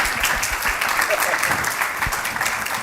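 A conference audience at a Mumbai social media week session gives a big, dense round of applause that stays loud and steady throughout, with some voices mixed in.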